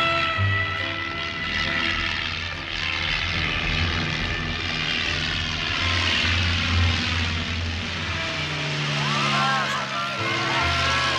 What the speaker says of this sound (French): Mon Dieu, midi, le défilé aérien.